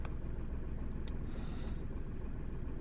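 A Renault Twingo 1.0 three-cylinder engine idles with a low, slightly uneven, lumpy rumble, steady and fairly faint throughout, with no voices.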